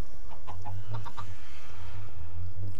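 Minecraft chickens cluck in a steady stream of short, repeated calls, loud and close, over constant low game background sound.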